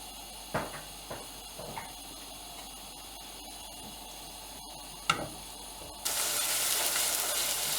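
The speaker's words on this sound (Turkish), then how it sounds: "Altını açıp kavurmaya başlayalım." A few faint clicks and taps, then a sudden loud sizzle as onions and garlic start frying in hot olive oil and keep crackling steadily.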